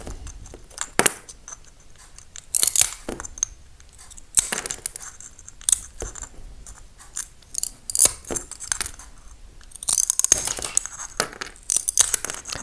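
A Montolit crab nipper snips around a circle in ceramic tile, making sharp crisp cracks and clicks spread irregularly across the stretch, some in quick clusters, against a near-silent background.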